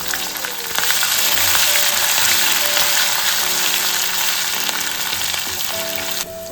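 Green chillies and ginger garlic paste frying in a clay pot, a loud, dense, continuous sizzle close up that holds steady for several seconds.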